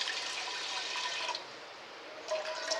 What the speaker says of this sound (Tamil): ஒரு சம் தண்ணி விட்டுக்கோங்க.